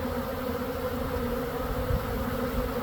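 Steady, close buzzing of a swarm of honeybees around a ten-frame nucleus hive, a continuous droning hum with no voices.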